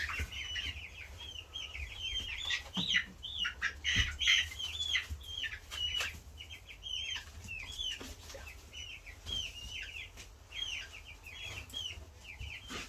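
Five-week-old chicks cluck and chirp repeatedly at close range, a steady stream of short calls with occasional wing flaps and handling bumps in a quiet farm setting.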